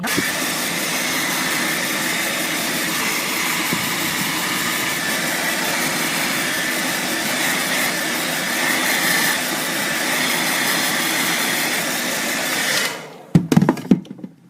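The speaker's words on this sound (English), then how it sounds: "the hairdryer's going to go" A Pro Blo hair dryer blows with a steady, loud whirring roar for several seconds, then cuts off abruptly followed by a few brief clatters.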